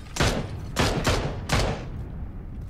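Four loud gunshots fired one after another in PUBG, a couple of quick cracks then a single shot, each with a short echoing tail, close and clear with no talking.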